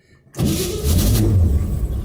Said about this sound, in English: as soon as I start the car, well, it shuts off and then turns back on again